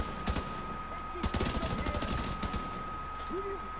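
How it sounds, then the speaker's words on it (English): Pistol gunfire in The Division 2, short bursts of sharp rapid shots close by, with a steady electronic tone underneath and a few brief voice-like sounds. "The fire rate on this gun's a little high, so I keep running out of ammo."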